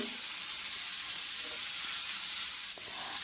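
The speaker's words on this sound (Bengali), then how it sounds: "আলুটাকে হালকা করে একটু ভেজে নেব" Cut potato pieces fry in hot oil with a little salt, giving a steady, even sizzle and hiss that runs throughout, close by and with no voices over it.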